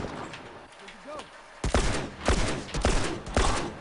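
Gunfire in The Last of Us multiplayer: after a quiet stretch with a faint voice, four loud, sharp bursts of shots land close together at an uneven pace.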